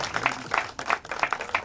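Audience applause at a music event honoring singers, a patchy spread of hand claps with bright, uneven bursts over low background murmur.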